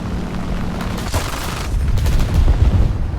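Aircraft gunfire from a teammate's plane in War Thunder, loud bursts and booms layered over constant engine drone, building heavier near the end.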